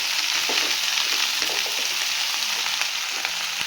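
Mixed vegetables frying in oil in a pan for a Bengali chorchori, a steady dense sizzle with light stirring scrapes, close and continuous with no talk.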